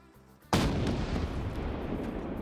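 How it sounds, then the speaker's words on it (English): A tank main gun fires in a tanks-only PvP video game match, likely an M1 Abrams shooting at a T-90: one sudden loud boom that rolls into a long, dense rumbling tail, with no talk over it. "the Abram gets another beautiful shot on the T-90"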